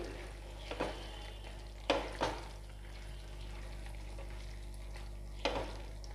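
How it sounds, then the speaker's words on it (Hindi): Fried paneer pieces are stirred into chili sauce in a pan for restaurant-style chili paneer, giving a low steady sizzle with a few scraping stirs of a spoon against the pan, with no talk. "अब हम इसमें पनीर के पीसेस को ऐड करेंगे जो हमने फ्राई करके रखे इनको मिक्स कर देंगे"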